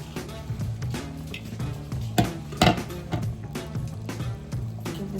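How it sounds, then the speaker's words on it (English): A spoon scrapes and clinks around a pot of clam chowder with potatoes, steady stirring with a few louder knocks against the metal near the middle, close and alone without talk. "Give this a nice stir"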